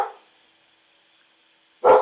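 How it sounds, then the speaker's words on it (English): A pet dog gives a single short bark at close range at the end, after near silence with only faint background hum. "oh my god, my dog"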